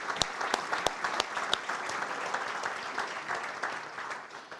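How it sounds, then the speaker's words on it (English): A dinner-hall audience at an award banquet applauds, dense steady clapping from many hands with a few sharp nearby claps, fading out gradually after about four seconds. "So if we could give them a round of applause for their support."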